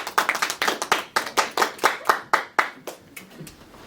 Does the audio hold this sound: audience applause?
yes